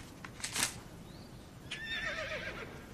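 A horse on a family ranch gives a faint, brief whinny with a wavering tone near the end, after a few soft thumps and rustles, all fairly quiet and distant with no talking.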